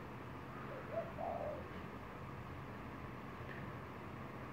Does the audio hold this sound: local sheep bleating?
no